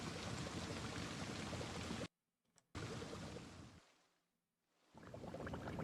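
Steady rain hisses across the whole scene in Project Zomboid, cutting out abruptly for a moment, then fading away and swelling back in, with no talking over it.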